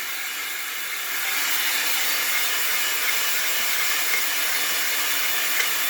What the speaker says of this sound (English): So we're just giving it a hone.